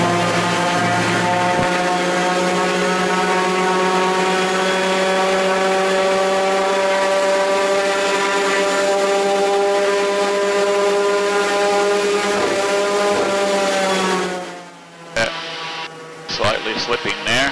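A small prototype aircraft engine (Raptor) drones loudly and steadily at about 3800 RPM with a strong buzzing harmonic tone, then cuts down near the end with some clattering.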